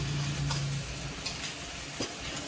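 Sautéed vegetables with coriander and a few spoons of yogurt for jowar upit are turned in a pan, a soft continuous sizzle with a couple of spoon taps and scrapes and a faint low hum early on.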